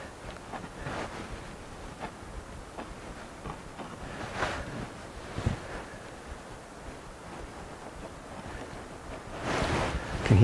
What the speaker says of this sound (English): You can hear it up in the hills just whistling around.